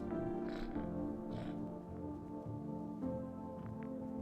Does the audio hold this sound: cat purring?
yes